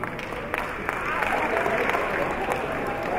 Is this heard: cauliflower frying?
no